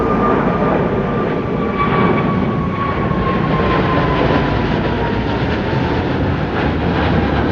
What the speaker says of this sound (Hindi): GE90 की आवाज़ सुनो.